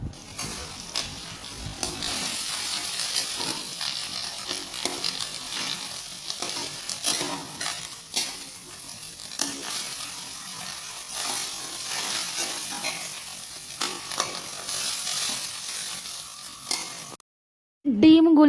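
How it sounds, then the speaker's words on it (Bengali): Eggs fried crumbled and scrambled-style in oil in a pan, making a steady, close, hissing sizzle with faint scraping that runs almost continuously before cutting off abruptly. "ডিমগুলোকে আমি ঝুরো ভাজা করে নেব।"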